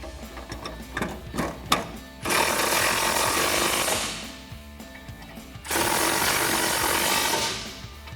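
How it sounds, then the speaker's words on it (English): A ratchet with a 13mm socket tightening headlight bolts on a 2011-2016 Ford Super Duty, with a few close clicks followed by two longer bursts of rapid ratcheting. "And then using a 13mm socket to snug them up."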